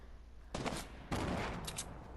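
Gunfire in a video game comes in two bursts of rapid shots, the second longer than the first, sharp and fairly close at a moderate volume without any talking.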